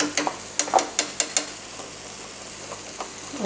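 Spices and paste for a tinda curry fry in a pan with a soft continuous sizzle, while a spoon scrapes and taps in a quick series of strokes before the sizzle carries on alone.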